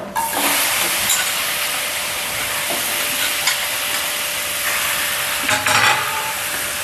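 Washed chicken sizzles and hisses steadily in a kadai, a dense continuous frying noise with a few brief stirring scrapes near the end.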